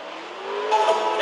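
Race car in a video game accelerating hard with a turbo, a steady rising engine drone that swells briefly near the end, close and loud, no voices.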